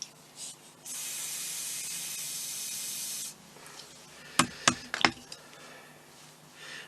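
A sugar peony flower dusted with yellow powder food colour gets a steady hiss of spray lasting about two seconds, followed by three sharp, close clicks.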